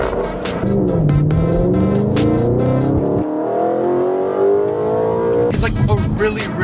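A 2015 Audi RS5 with a high-revving engine climbs loudly through the revs, then drops abruptly and builds again in a long rising pull, close and dominant, before the throttle is blipped near the end.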